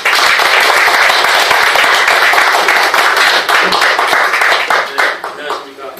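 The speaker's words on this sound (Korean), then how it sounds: "박수로 한번 환영해서 강의해 드리겠습니다" An audience welcomes a lecturer with a burst of loud, dense clapping that holds steady, then thins and fades out in the final second.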